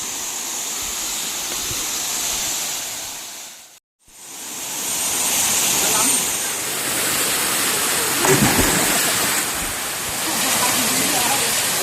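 Juara waterfall on Tioman island, a steady broadband rush of falling water, loud and close, with a brief dropout near the middle and no speech.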